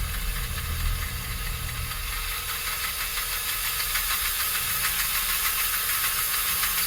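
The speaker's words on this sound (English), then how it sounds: "Motor's reaching some sort of binding." The motor of a #322 model steam engine from a train set, fitted with a thrust washer and binding up: a steady, close mechanical whir with gritty hiss and fine rapid ratcheting texture, and no voices.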